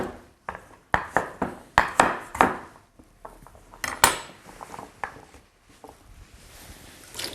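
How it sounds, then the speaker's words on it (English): Vegetarian pumpkin and coconut kitchari cooking in a single pot as pumpkin pieces are tipped in, giving a run of close, sharp clinks and knocks of utensils against the pot, loud at first and then thinning into softer scrapes. "Here goes the pumpkin."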